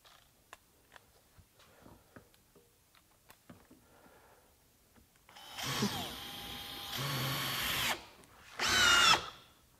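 A Makita GPH01 40V XGT hammer drill driver with a T40 bit sinks a long construction fastener, its motor whining loudly in two close bursts that stop abruptly, after a stretch of quiet handling clicks.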